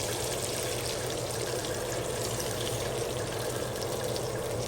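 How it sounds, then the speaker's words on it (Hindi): Water poured steadily into a cooking pot of aloo wadiyan, a Punjabi lentil dumpling curry, giving a continuous close rushing splash with no pauses. "अब मैं इसके अंदर पानी डालूंगी।"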